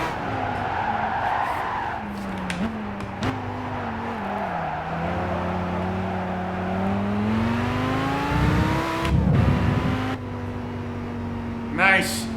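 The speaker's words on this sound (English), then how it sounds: "you can just floor the throttle and it will accelerate out without spinning out" A four-wheel-drive car in Gran Turismo 5 accelerates hard under full throttle, its engine note climbing steadily through the gears with tire skid noise, loud and continuous with a brief burst of noise near the end.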